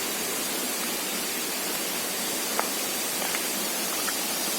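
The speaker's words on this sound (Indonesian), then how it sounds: "diperkirakan air terjun ini tingginya sekitar 40 meter" Curug Semirang, a waterfall about 40 metres high, pours as a dense, constant hiss of falling water that fills the whole scene at steady strength, with a few faint ticks and no voices.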